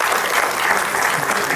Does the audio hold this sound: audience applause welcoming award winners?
yes